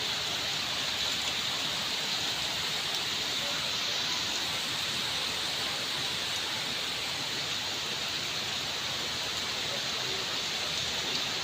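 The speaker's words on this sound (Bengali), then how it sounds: "এর ছাদের পানিগুলো পড়তেছে" Rainwater spills off a rooftop during a storm, a constant, even wash of splashing and hiss that holds at moderate loudness without breaks.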